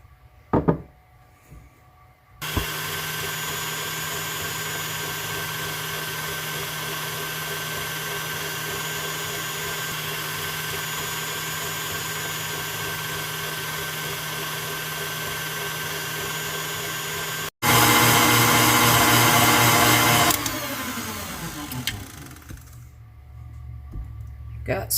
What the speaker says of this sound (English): We have 1 cup of heavy whipping cream. We are going to whisk that up until we get some soft